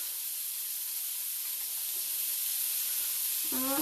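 Onion fries in a wok, giving a loud, continuous broadband sizzle and hiss that stays close and even throughout, with a brief tonal clatter right at the end.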